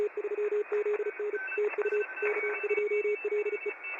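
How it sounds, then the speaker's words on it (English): Morse code CW signals from the Worked All Europe contest, received at night on 40 meters through a web SDR in the Netherlands: rapid beeping tones keyed over a hiss of band noise, with fainter stations beneath. "there's actually a contest going on right now in Europe called the what is it? Worked All Europe CW."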